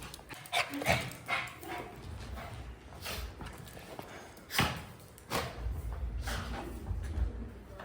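Puppies yap and whimper excitedly in short bursts over steady background noise, close and lively.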